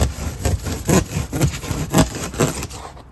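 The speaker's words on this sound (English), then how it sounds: "Bread knives make your life really easy with styrofoam." A bread knife saws through styrofoam subfloor insulation in a school bus, giving a steady back-and-forth rasp of about a dozen quick, close strokes with no talking.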